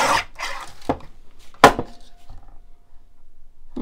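Scissors cutting paper for a William Morris themed junk journal: a few sharp snips and crisp cuts, close and fairly quiet, with brief pauses between strokes.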